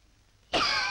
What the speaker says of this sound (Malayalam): കേട്ടില്ലയോ, വെങ്കലപാത്രത്തിൽ തട്ടിയ പോലെ അല്ലയോ ചുമയ്ക്കുന്നത്.